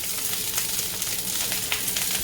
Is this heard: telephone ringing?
no